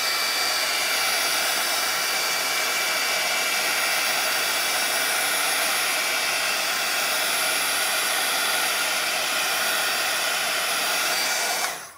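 Hair dryer blowing on wet watercolor paint: a continuous loud, even rush of air held for the full stretch, close and alone, cutting off right at the end.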